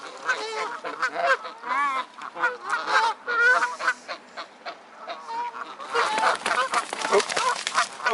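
Geese fight on a bird island, their harsh honks coming in rapid, overlapping bursts, loud and close, with a sudden louder flurry of squabbling near the end.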